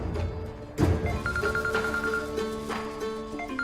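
A telephone rings with an incoming call indoors in a Hindi TV drama scene, a repeating electronic ringtone pattern at steady level over a faint background, with no talking.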